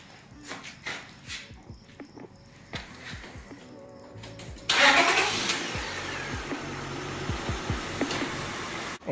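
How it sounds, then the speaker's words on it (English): A 2001 Honda Odyssey's engine cranks and catches after a few seconds of clicks and knocks, then settles into a steady, louder run, with a dog barking faintly nearby. "let's go ahead and start up the car"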